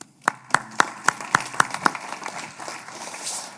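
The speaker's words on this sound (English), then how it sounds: "let's a round of applause for Andrew." An audience at a virtual-asset regulation talk gives a short burst of applause: about seven distinct claps in an even rhythm, then a softer scatter of clapping fading into room noise.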